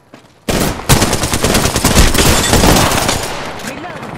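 Sustained loud automatic gunfire in Apex Legends, a dense rapid burst that starts abruptly and continues at close range, with game sound around it.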